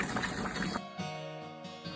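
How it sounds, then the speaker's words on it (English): Jars of sauerkraut in a hot water bath at a rolling, aggressive boil make a steady bubbling, churning wash, loud at first and then settling into a softer, continuous simmering hiss. "We are boiling very aggressively."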